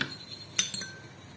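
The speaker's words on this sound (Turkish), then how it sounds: "Çatal veya mikser yardımıyla köpürene kadar iyice çırpın beyazını" A fork beats egg whites in a glass, giving a few quick, light clinks of metal on glass in a short cluster against a quiet background.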